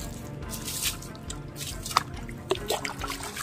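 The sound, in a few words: water being splashed onto a person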